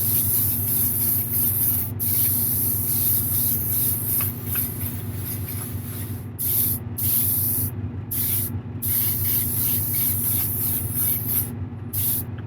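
An aerosol can lays a light base coat of spray paint on a Wolverine model figure, a continuous close hiss broken by short pauses between passes.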